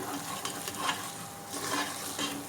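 Masala paste for mutton paya frying in a pan, a steady close sizzle with soft scraping from stirring throughout, no voices.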